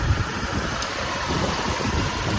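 A 2010 Mercedes-Benz E250 CGI petrol engine idles steadily with a smooth, quiet hum and faint mechanical whir, continuous and close, no voices.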